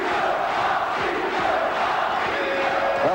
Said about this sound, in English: Tricio, the name they have given him here in Italy, is being chanted by this enthusiastic crowd in Livorno